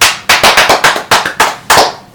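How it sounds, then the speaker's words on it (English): Someone claps their hands during a game of Simon Says, about ten loud, close claps in an uneven quick rhythm that runs for around two seconds, with no voices. "Simon says, clap your hands."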